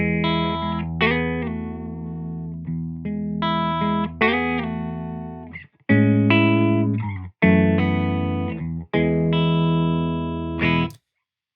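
Sustained pedal steel guitar chords sliding between notes through a Wonderful Audio Technology Ancient Echos pedal into a Milkman Sound 85-watt amp, washed in short echo and reverb, each phrase ringing out before stopping abruptly.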